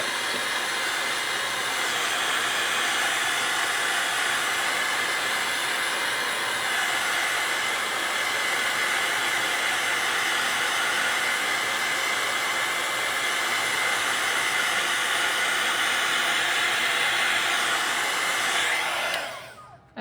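A hair dryer blows at an acrylic sunset lighthouse painting with a loud, steady, close roar that holds unbroken, then cuts off abruptly at the very end.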